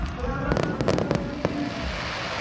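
Fireworks burst at an outdoor music festival concert in Clark, Pampanga, a rapid cluster of sharp pops and crackles over a constant crowd roar, heard from within the audience at moderate distance.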